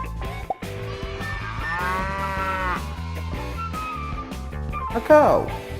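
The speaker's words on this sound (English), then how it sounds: "A cow." A cartoon cow moos in a children's farm-animal song, a single drawn-out low call over steady music and singing, with a brief rising effect near the end.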